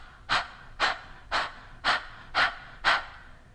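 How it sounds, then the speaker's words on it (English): Six evenly spaced open-mouth exhales, like fogging up a cold window, sounding as breathy bursts about half a second apart, close and fairly soft with no talking. "it would be kind of like you were fogging up a glass"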